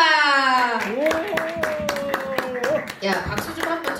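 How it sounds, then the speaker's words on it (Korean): At a church service, a small group of children claps to welcome their teacher, with sharp scattered claps mixed with a sung or drawn-out voice and chatter, fairly loud and close. "최욱선 선생님을 박수로 모시겠습니다"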